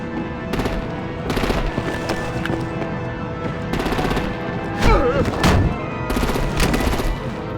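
Gunfire and artillery in the video game Batman: The Telltale Series: repeated bursts of rapid automatic fire, with a heavier blast in the middle, all close and loud over a constant rumbling background.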